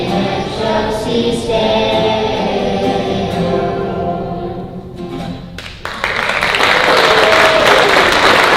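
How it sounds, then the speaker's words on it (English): An audience applauds a children's Christmas carol performance with steady, loud clapping from a crowd, swelling louder near the end, with faint voices mixed in. "can we get one last round of applause for all of our youth and kiddos?"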